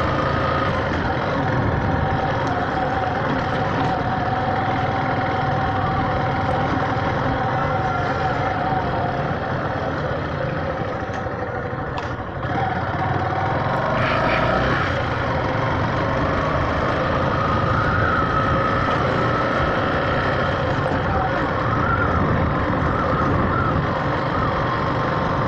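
Yamaha Factor motorcycle riding through the streets of Mataraca, its engine a steady, loud drone with constant road and wind noise throughout.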